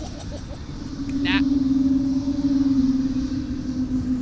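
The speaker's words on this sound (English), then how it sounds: "they have contra-rotating fans that produce this whale call sound." An Airbus A220 with geared turbofans taxiing at an airport, giving a sustained, droning whale-like hum that holds steady and slightly wavers for several seconds over distant traffic rumble, while people talk nearby.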